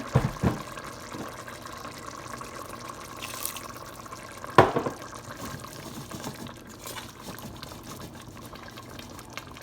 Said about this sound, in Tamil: இன்னும் கொஞ்சம் தண்ணி ஆட் பண்ணுறேன்